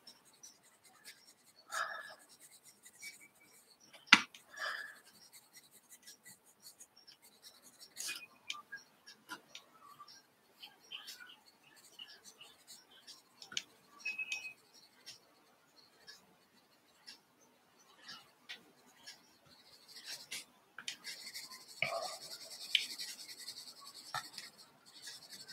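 Coloured pencil laid down in light layers on paper gives faint, intermittent scratchy strokes, quiet and close, with soft pauses between bursts of drawing.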